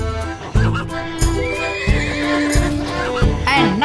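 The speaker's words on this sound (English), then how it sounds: "Number 17, horse." Horse whinnying from the WildCraft video game, several rising and falling neighs over about four seconds, with clip-clop hooves and music beneath.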